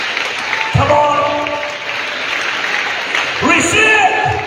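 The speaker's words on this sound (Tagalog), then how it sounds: "dagdagan pa natin ang ating palakpak sa Panginoon" A church congregation claps steadily through the whole stretch, a dense wash of hands that holds at an even level while a voice speaks over it now and then.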